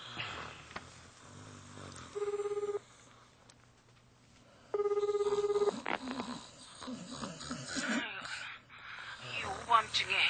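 A hotel room telephone rings out while calling the front desk, sounding as two distinct electronic tone bursts separated by a short pause, set among spoken voices and background sound.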